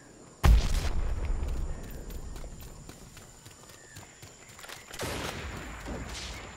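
A frag grenade detonates in a Predator: Hunting Grounds match, a sudden heavy blast with a deep low thump and debris rumble that fades over a few seconds, followed later by softer distant bursts and rustling movement.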